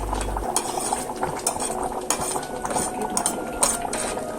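Kadala chickpea curry boils in a pot while a spoon stirs it, giving busy clinks and scrapes against the metal over a bubbling, liquid background.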